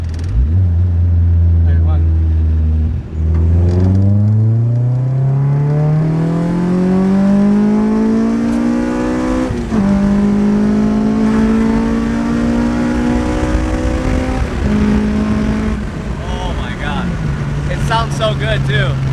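A K24-swapped EJ6 Honda Civic accelerates hard and loud, its engine note climbing through long rising pulls with brief dips at the gear changes, and excited voices can be heard over the roar.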